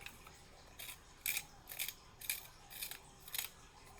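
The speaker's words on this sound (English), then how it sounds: "So the next thing I'm going to do is sharpen this pencil a little bit." A pencil being sharpened at a craft table in a series of short, scratchy grinding bursts with brief pauses between them, close and fairly quiet with no talking.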